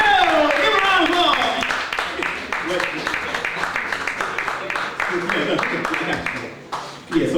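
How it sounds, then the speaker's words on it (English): Audience applause greeting a speaker as he comes up to talk on astrology: a broad, continuous wash of clapping that is loudest at first and slowly thins. Voices can be heard under it. "I want all of you to give a well-deserved round of applause to our brother who's coming up right now"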